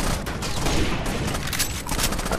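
Rapid gunfire in the video game Rainbow Six: Vegas 2, a dense, continuous burst of shots that stays loud and close the whole time with no pauses.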